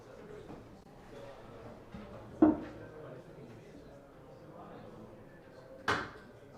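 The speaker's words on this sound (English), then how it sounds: "I'm gonna close the door." A door closes in a conference room during a tech event, with two distinct thuds a few seconds apart over a quiet background of room noise and faint talk.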